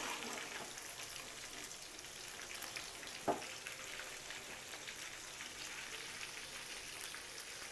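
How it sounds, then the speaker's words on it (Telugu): Large prawns frying in a pan for a restaurant-style prawn fry, giving a soft, continuous sizzle with a few faint pops and one sharp crackle midway, with no talking. "రొయ్య రెడ్ కలర్ వచ్చిందాక వేయించుకోవాలి."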